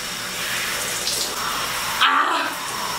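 Steady running water from a faucet pours while hair is being wetted at a sink, a continuous broadband rush that shifts briefly as the stream is interrupted near the end.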